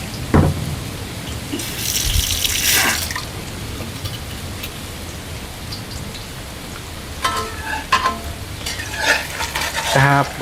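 Food sizzling and crackling in a hot pan in a home kitchen, with a steady close frying hiss, a few clanking stirs and scrapes, and no talk.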